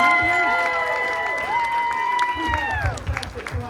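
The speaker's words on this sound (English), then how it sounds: "Thank you all for cheering." An audience at a steampunk costume fashion show cheers and applauds, a dense wash of clapping and crowd noise beneath a tonal, sweeping sound that runs through the middle.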